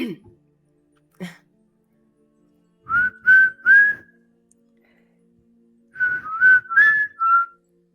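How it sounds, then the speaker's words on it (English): A person whistles three times in a row, then three or four more whistles follow after a pause, each a short rising tone, clear and close with no talking over them. "Whistle again, but like 3 times."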